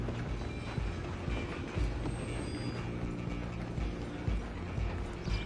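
A train running in the video game Red Dead Redemption 2, a steady low mechanical rumble with rhythmic clacking of rail cars rolling along the track, loud and continuous with no talk over it.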